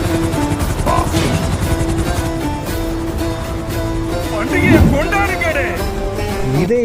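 A helicopter flies in the video game GTA V, its steady rotor drone running continuously under game music, with a louder swell near the end.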